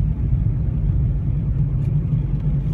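Inside an old Ford car climbing a twisty uphill road, a steady, loud low engine rumble and road noise fill the cabin, with no voices.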